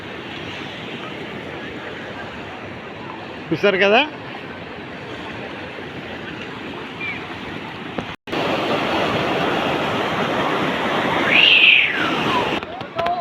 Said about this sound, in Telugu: రిజర్వాయర్ నుంచి వాటర్ వస్తుందండి ఇందులోకి ఇలాగా